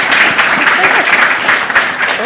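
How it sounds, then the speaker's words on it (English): An audience at a journalism and AI festival session applauds, a dense burst of clapping loud and close, with voices mixed in. "a round of applause for you guys"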